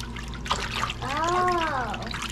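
Water runs from a hose or tap in a steady trickling stream, close and fairly quiet, with a brief voice over it partway through.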